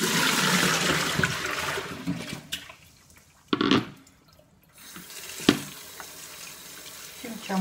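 Tap water gushes into a bowl to soak purslane for a cooking dish, a loud steady rush that cuts off, followed by a few splashes and short bursts of running water in a kitchen.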